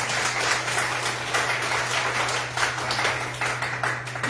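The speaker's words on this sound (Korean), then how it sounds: "큰 박수로 시작하겠습니다." An audience at a Democratic Party members' meeting in Jeju claps in a steady, moderately loud patter of many hands that continues evenly throughout, with a low constant hum underneath.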